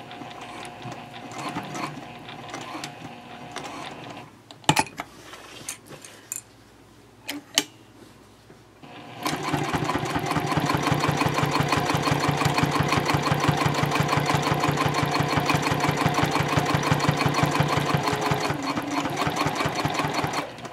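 A sewing machine stitching a bowler bag starts after a few clicks and handling knocks, then runs in a steady, rapid mechanical chatter close up for over ten seconds.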